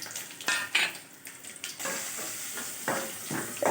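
Green chillies sizzle and fry in hot oil in a pan on a low flame, a steady bright hiss that swells and fades as they are stirred, with a few soft scraping strokes.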